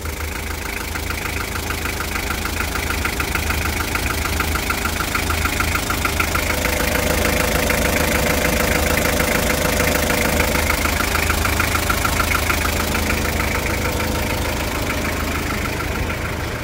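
A Mitsubishi 4D56 diesel engine in a Hyundai HR idles steadily up close, a rough, knocking rumble with a constant rhythmic clatter and no voices.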